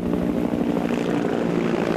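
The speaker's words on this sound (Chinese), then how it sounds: "两架战术型侦搜无人机升空之后，朝敌军方向飞去" Two tactical reconnaissance drones take off during a military exercise, giving a steady, loud propeller drone with a buzzing engine hum that holds evenly throughout, with no voices.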